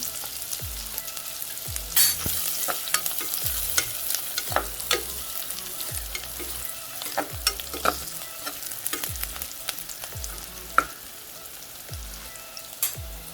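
Onions sauté in a pan while cooking channa rice. They crackle and sizzle steadily, and a spoon scrapes and taps often and close by, with a low thumping underneath. No speech is heard.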